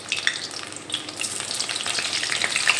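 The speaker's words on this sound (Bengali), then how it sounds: "এই তেলের মধ্যেই পটলগুলো ভাজার জন্য ছেড়ে দেব।" Pointed gourd (potol) frying in hot oil in a wok, a continuous close sizzle dotted with small pops and crackles, steady and fairly loud, with no talking.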